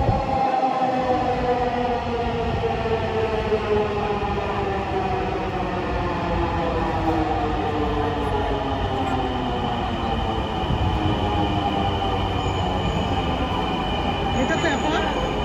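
A Dhaka metro rail train sounds steadily throughout, a continuous loud rumble with layered tonal hum and rail noise, as if heard from on board or right beside the passing carriages.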